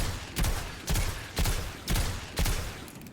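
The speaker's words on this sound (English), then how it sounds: "Let me hip fire to show you guys." A video game gun fires from the hip in five evenly spaced bursts, each a loud crack followed by a short echoing tail.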